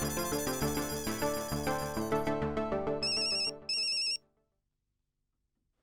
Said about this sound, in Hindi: मैं रोशन भाभी और कोमल भाभी को फोन कर देती हूँ